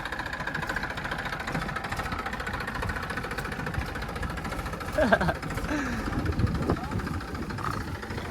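A tractor engine rumbles steadily throughout with a rough, knocking texture, while people talk nearby over the noise.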